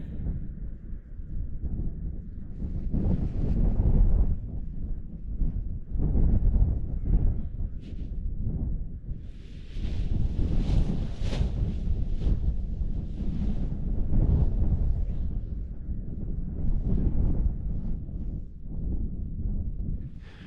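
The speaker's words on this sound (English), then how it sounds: "I knew it was windy. It was gusting up to 30 kilometers an hour" Strong wind gusting up to 30 km/h roars across the microphone while paragliding, a loud continuous buffeting that surges and eases in waves for the whole stretch.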